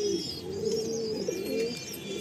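Pigeons offered for sale coo in a low, steady rolling tone, close and continuous, with faint chirps above it.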